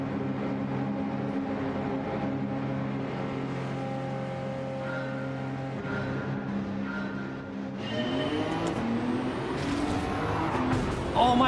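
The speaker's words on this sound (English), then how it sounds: "Oh, we got this bloody Lambo behind us again, haven't we?" Lamborghini race car engine in Gran Turismo 7 at Suzuka, a sustained tonal engine drone that shifts pitch, then rises into a louder, brighter revving roar near the end.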